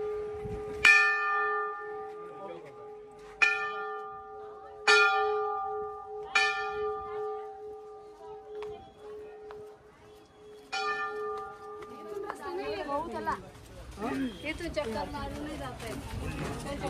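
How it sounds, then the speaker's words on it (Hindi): A temple bell on the mountain road to Kedarnath rings out in five clear, resonant strikes, each left to ring and fade. Outdoor chatter and people talking follow afterward. "तो हम लोग घंटी बजा के निकल पड़े।"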